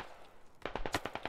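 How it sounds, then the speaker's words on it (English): A rapid burst of gunfire in the SquadOps shooter game starts after a quiet moment, about eight sharp, fairly distant shots in quick succession. "And the shots ring out."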